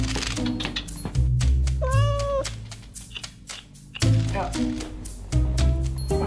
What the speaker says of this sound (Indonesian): Susah nih, ngurus kucing.